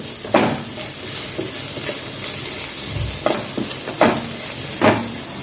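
Spices and black pepper get stirred in a pan over a low flame for onion manchurian, with a steady soft sizzle and several sharp spoon scrapes and clacks against the pan.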